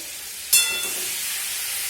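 Bitter gourd frying in oil gives a sudden burst of sizzle that settles into a steady close hiss, with no talking.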